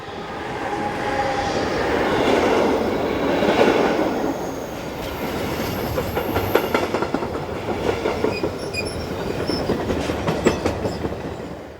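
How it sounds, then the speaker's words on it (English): Trains roll through the platforms of a station on the Gotthard main line, with steady rumble and repeated clickety-clack of wheels over rail joints building in the second half, close and loud throughout, with no voices. "a car park gives a good view of the trains as they head through the platforms"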